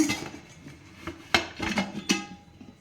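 A pressure cooker's metal lid is unlocked and lifted after the pressure has been released, producing a few sharp metallic clanks and clinks with quieter scraping between them, close by.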